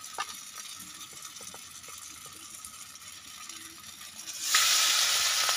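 Poi leaf bara fritters sizzle in hot oil in a kadai, a steady close crackle with faint clinks, swelling to a louder hiss near the end; no speech.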